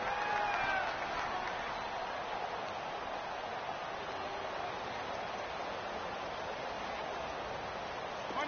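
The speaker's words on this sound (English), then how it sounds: "the crowd getting into it as we come up on a big third down" A stadium crowd roars in a PS4 American football game before a big third down, a steady, dense wash of cheering and applause that holds level throughout.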